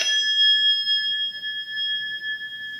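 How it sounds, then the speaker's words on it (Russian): A small hand bell rings once with a bright struck attack, then its clear metallic tones ring on and slowly decay, alone and close. "И вот этот колокольчик, по-моему,"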